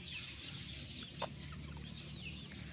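Several national banded gamefowl chickens cluck softly, with brief calls rising faintly over a steady low background hum and no talking.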